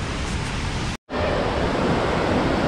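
Loud, dense rush of a mountain stream flowing through a valley near Mount Baker falls, a steady broadband roar heard up close, briefly cut to silence once before resuming.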